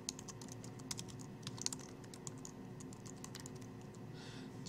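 Steady key clicks on a computer keyboard while entering a tier name in software, quiet and close, with a low constant background hum and no talk.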